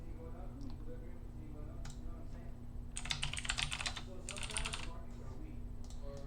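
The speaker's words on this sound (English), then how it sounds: "I know that pissed you guys off for how slow I type" Keys clatter on a computer keyboard in two short, quick bursts of close typing, with a few scattered taps around them and a steady low hum underneath.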